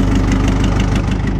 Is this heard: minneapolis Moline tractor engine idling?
yes